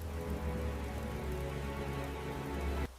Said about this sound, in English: Soft, gentle rain begins to fall, moistening the dry, dusty savanna soil.